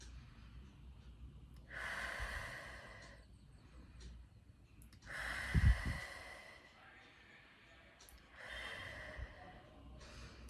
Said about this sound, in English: So close your eyes, take 3 deep breaths